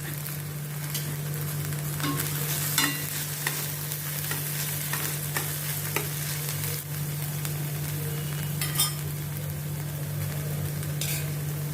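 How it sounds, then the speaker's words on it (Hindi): Onion, ginger, chilli and boiled green peas sauté in a hot pan, a steady close sizzle broken by frequent scraping stirs, with no talking. "प्याज को भी मैं जिंजर और चिल्ली के साथ सौते करती हूँ, थोड़ा जैसे उसका कच्चापन निकल जाए।"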